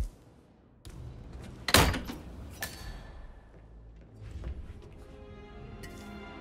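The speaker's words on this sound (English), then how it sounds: "That is the door to Mr. Fernsby's office." An office door in the video game Hitman 3 opens with a sharp wooden thunk and latch clatter, followed by a softer knock and quiet room ambience.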